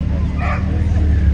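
A dog barks and yips among the parked cars and crowds at a Cars & Coffee car club show in Connecticut. The short yaps come over a loud low rumble of engines and crowd noise, with a person talking nearby.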